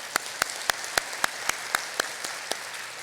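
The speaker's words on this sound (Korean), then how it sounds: "하나님께 다시 한번 감사의 박수로 영광을" Sparse, regularly spaced hand claps at a church Sunday service in Korea, about nine sharp claps in three seconds, moderately quiet in a reverberant hall, with no talking.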